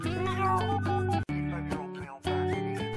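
Small cat meowing in a Lego stop-motion animation; two long, loud, close meows, the first drawn out and the second following after a brief gap, with a short third cry at the end.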